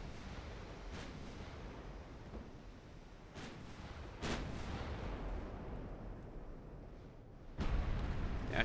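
Battleship naval guns firing in the naval video game Ultimate Admiral Dreadnoughts, several heavy booming salvos spaced seconds apart, the last ones loudest, over a low rumbling background.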